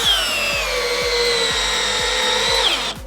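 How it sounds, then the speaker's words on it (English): A Milwaukee 12V hammer drill drives a 6-inch TimberLok screw into wood, a loud whining motor under rapid rhythmic hammering clicks that runs for about three seconds before cutting off abruptly. "Starting first with the Milwaukee 6-inch timber lock"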